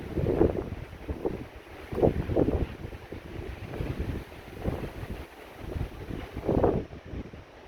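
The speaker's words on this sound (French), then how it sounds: "Très fort vent là." Strong wind during a high-precipitation supercell thunderstorm, roaring in continuous gusts that buffet the microphone, with rain likely falling and no voices.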